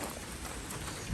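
Steady rain falls, a dense, even hiss of drops close by that continues without pause over the short stretch.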